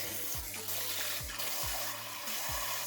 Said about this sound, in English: So just rinse off the salt